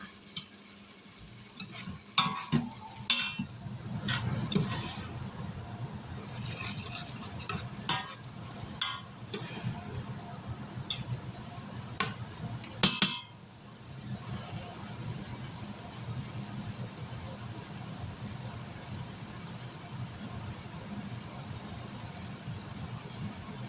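Cooked hamburger meat is scraped and moved into a bowl, with utensils clinking and scraping in irregular bursts over a soft sizzle, fairly close, before the stirring stops and a quiet hiss remains.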